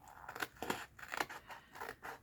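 Scissors snip through sturdy card stock in a handful of quick, crisp cuts spaced across a couple of seconds, fairly close and with no voices.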